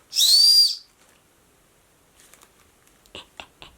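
A single loud, high whistle blast lasting under a second, followed by quiet and a few soft clicks and rustles.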